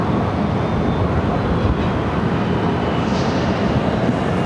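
Jet airliner departing Phoenix Sky Harbor bound for SFO, a steady, loud, broadband engine roar that holds constant throughout with no voices.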